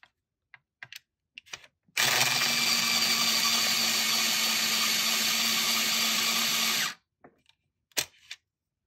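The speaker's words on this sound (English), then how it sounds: "So my sharpener is on my little carousel here of all my inserts. And you can actually sharpen it up on two different sides." An electric pencil sharpener grinds a pencil in one steady, loud whirring burst of about five seconds, then stops abruptly, with small clicks and handling taps before and after.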